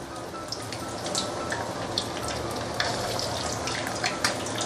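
Meatballs frying in a pan to firm their round shape, a steady quiet sizzle with scattered crackles and pops, no voices.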